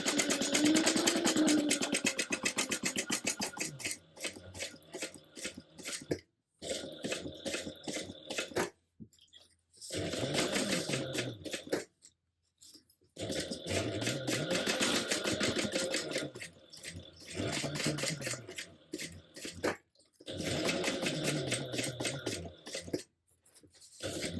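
A sewing machine runs in repeated bursts of rapid, even stitching, close by and fairly quiet, as it bastes a lining piece at 1/8 inch on a Jazz Tote, with short silent pauses between runs.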